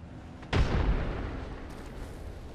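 A grenade detonates in Apex Legends as a single loud, deep boom that hits suddenly and then trails off into a rumbling decay.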